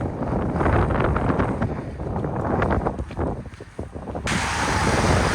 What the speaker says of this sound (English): The wind is seriously no joke here.